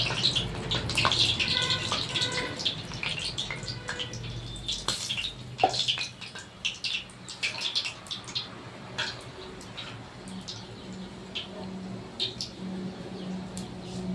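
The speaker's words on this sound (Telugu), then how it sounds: "కాగిందో లేదో ఒకటి వేసుకొని చూద్దామండి అప్పుడు అది కాగితే నువ్వు వేడినట్టు అది చక్కగా ఫ్రై అయ్యిందో లేదో" Methi pakodi, fenugreek fritters, fry in hot oil with a steady, close crackling sizzle and scattered small pops throughout.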